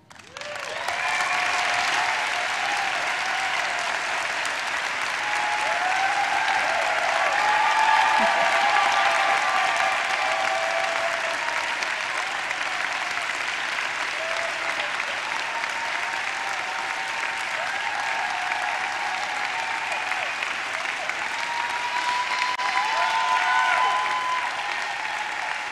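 Sustained applause and cheering from a large audience at a university opening convocation, steady and dense for the whole stretch, with whoops and shouts rising above the clapping.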